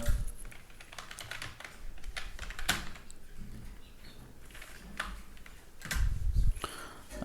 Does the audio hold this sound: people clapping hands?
no